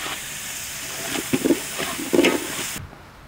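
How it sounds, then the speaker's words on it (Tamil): Crab frying with onion in a pan for a crab rasam, heard as a steady close sizzle with a couple of brief stirring scrapes before it cuts off abruptly. "வெங்காயம் வதங்கணும், அதனால இந்த நண்டும் சேர்ந்து அப்படியே பொறிக்கிட்டோம் அதில்"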